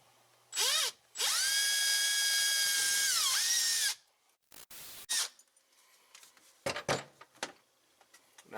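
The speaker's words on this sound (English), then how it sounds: "I'm going in here with a 3-inch hole saw" A power drill fitted with a 3-inch hole saw bites into the cab panel of a 2021 Polaris General, a loud close whine that rises, holds and drops off after about three seconds, followed by scattered knocks and handling clatter.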